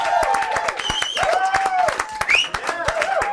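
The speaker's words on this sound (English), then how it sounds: "round of applause for Steve the Forest" At a 2013 Placebo TV gig, the audience gives drummer Steve Forrest a round of applause: separate, fairly sparse claps ring out near the microphone, mixed with whoops and voices.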